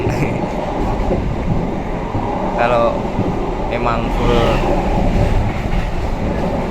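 Pasundan economy-class passenger train with upright seats, rolling on rails with a steady loud rumble and rattle of the carriage throughout, while a person talks over it.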